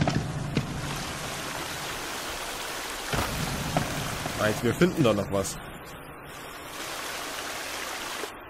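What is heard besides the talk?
waterfall in the video game The Forest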